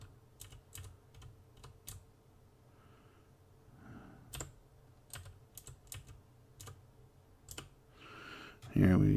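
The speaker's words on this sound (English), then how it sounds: "sorry about the clicky keys. I have a mechanical keyboard, so it makes a heck of a racket" Rapid clicky keystrokes on a mechanical computer keyboard, close and crisp in irregular bursts over a low steady hum, ending in a louder thump.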